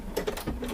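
A sewing machine makes a short back stitch, a brief burst of quick mechanical pulses heard up close with no talk.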